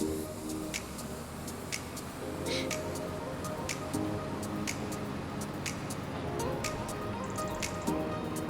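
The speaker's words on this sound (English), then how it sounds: "We're going to fill up on diesel." Diesel being pumped into a tractor's tank in Farming Simulator: a soft, steady liquid trickle with faint repeated drips and ticks, fairly quiet and continuous with no talking.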